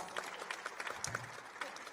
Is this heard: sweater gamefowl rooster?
no